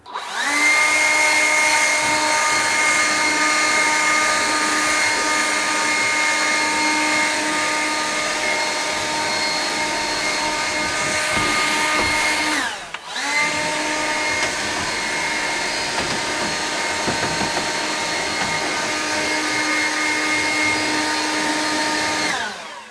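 A blower clears dust and cobwebs inside a chicken coop, its loud, steady whine running continuously with one brief dip before resuming.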